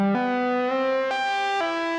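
A vintage 1971 synthesizer with added reverb plays a bright, buzzy sustained tone that steps through five pitches in quick succession, loud and alone.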